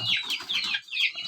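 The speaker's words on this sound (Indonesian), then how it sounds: "anak ayam." Chicks being fed maggots raised on kitchen waste give a quick run of high, close peeping and clucking calls, several in rapid succession.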